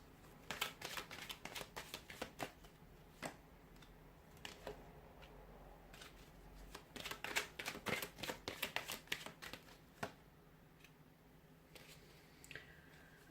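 Tarot cards are handled and shuffled at close range, making soft irregular riffling and flicking bursts that come and go in quiet clusters, with no voices.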